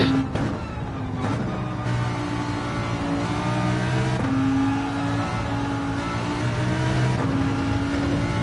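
A race car engine in a racing video game revs and pulls hard through steady throttle, with brief lifts and shifting pitch as the car accelerates out of corners, loud and continuous.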